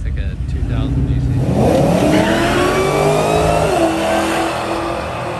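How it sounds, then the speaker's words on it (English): Heavily modified car engine with a supercharger blower revs hard at close range, a loud sustained roar with rising whine and pitch sweeps, crowd noise and voices faintly beneath. "Listen to this blower."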